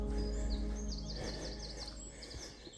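Greenfinches, chiffchaffs and a wren sing in woodland, with repeated high chirping phrases rising over a low rumbling background, faint and somewhat distant.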